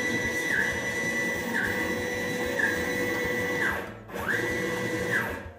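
A CNC machine jogs along the X axis in 1-inch steps, producing a loud, steady motor whine that repeatedly dips and rises in pitch as each move starts and stops, with a short near-silent gap before it resumes.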